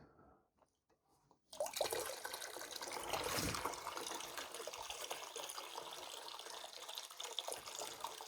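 Water pours steadily into a bucket drawn from the water column of a Maxspect Dice nano reef tank during a water change, a continuous close splashing stream starting after a brief quiet moment.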